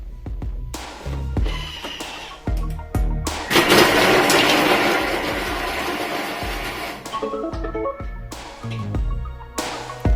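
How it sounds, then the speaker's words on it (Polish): A Thermomix TM6 food processor chopping vegetables whirs loudly for several seconds at speed 5, its blades chopping with a rough, churning roar, bracketed by short clunks and motor pulses. "Rozdrabniamy 3 minuty na obrotach 5."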